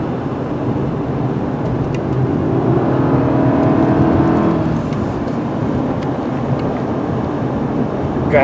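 A Subaru Outback with an upgraded 21mm rear sway bar is heard from inside while it drives, with a loud steady road and engine rumble that swells slightly as it accelerates. No one speaks.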